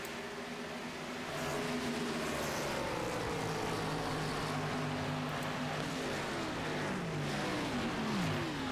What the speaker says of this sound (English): this is stock car racing in its purest form